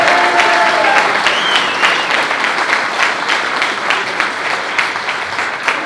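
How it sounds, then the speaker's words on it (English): Sustained applause from an audience at a boxing event, dense and steady clapping filling the room for several seconds, loud and close with no talk over it. "Round of applause for Sean Masha Dodge."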